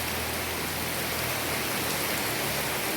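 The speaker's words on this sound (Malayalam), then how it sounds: "എന്നാ മഴയാ" Heavy rain falls steadily outside a house, a dense, continuous close hiss of drops on surfaces with no pauses and no voices.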